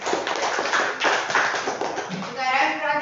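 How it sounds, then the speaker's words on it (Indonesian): Students in a classroom clap for a group of classmates during a math lesson, a brief burst of many hands clapping together, with voices talking over it. "Tepuk tangan untuk kelompok"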